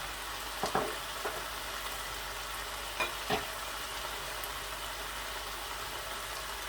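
Minced meat and bell pepper fry in a pan with a low, steady sizzle, quiet and continuous. A few soft scrapes and taps of a utensil against the pan rise briefly above it.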